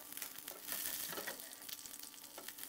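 Slit green chilies frying in oil over low heat, heard as a faint, crackling sizzle with light tossing rustles, quiet and steady.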